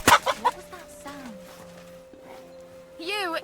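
A chicken in the video game Kingdom Come: Deliverance II squawks after being struck, a sharp impact followed by agitated clucks and a final loud squawk, with voices talking at times.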